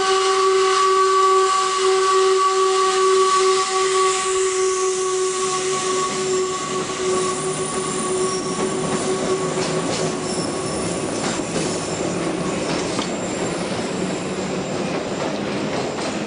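A steam train on the Epping Ongar Railway sounds a long, loud multi-tone whistle, then moves off with hissing steam, rumbling wheels and squealing on the rails, steady and close.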